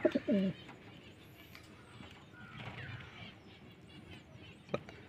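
Pigeons of an old full-shira breed make a few low coos close by at the start, followed by faint outdoor ambience with a brief knock near the end.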